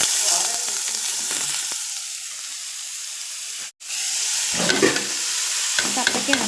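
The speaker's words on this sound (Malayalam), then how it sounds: "നമുക്കിതിലേക്ക് അരിഞ്ഞു വെച്ചിരിക്കുന്ന കപ്പയ്ക്കയും കൂടി ഇട്ട് കൊടുക്കാം." Chopped raw papaya tossed into hot oil with mustard seeds, onion and drumstick leaves for a Kerala-style thoran, giving a steady close sizzle and frying hiss with stirring scrapes and a brief break partway.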